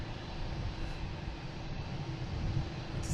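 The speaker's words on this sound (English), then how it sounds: "747 Lufthansa." A Lufthansa Boeing 747 airliner at Boston Logan International Airport gives off a steady, broad engine roar that holds at an even level throughout.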